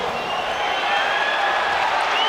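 A huge UFC arena crowd roars in a dense, unbroken wall of cheering, loud and sustained throughout.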